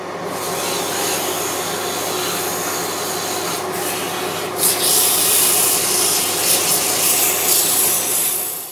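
Sandpaper rubs against a wood goblet spinning on a lathe, a steady, close abrasive scratching hiss that runs unbroken throughout with a slight lift in brightness partway.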